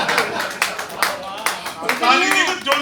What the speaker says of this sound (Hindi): ताली नहीं तो जोर से आनी चाहिए थी,